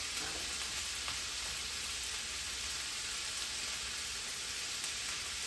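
Lean ground beef sizzles and browns in a pan over medium-high heat, a dense, continuous frying hiss with faint stirring ticks, steady and close throughout.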